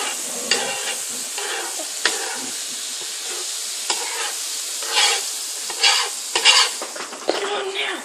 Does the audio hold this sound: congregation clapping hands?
no